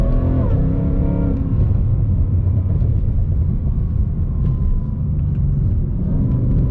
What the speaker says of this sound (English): It's hard to get sick of that engine note too.